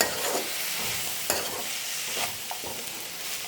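Chopped tomatoes dropped into hot oil for a chickpea and carrot curry, a continuous bright sizzle up close with soft scraping stirs of a spoon now and then, no speech.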